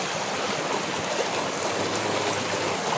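Steady running water from a mountain spring, a continuous broadband rush and trickle, close and even throughout with no talk.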